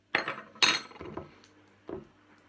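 Homemade slime being mixed by hand in a bowl, with a few sharp clinks and scrapes in uneven bursts, close and fairly loud, then a quieter tap near the end.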